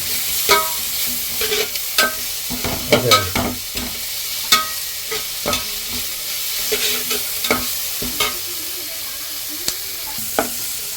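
Curry leaves crackle and sizzle in hot oil in a pan while making rava upma, with steady frying and scattered clinks and scrapes of a spoon stirring.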